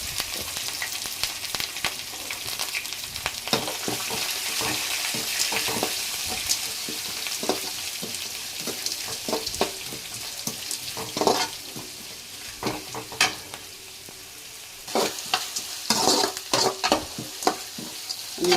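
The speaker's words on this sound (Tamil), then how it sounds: "வெங்காயம் வந்து நல்லா வதங்களுக்கு டைம் எடுத்துக்கணும்ப்பா" Onions fry and sizzle in hot oil while a utensil stirs them, giving a continuous bright crackle broken by repeated scraping strokes against the pan, close and unvoiced throughout.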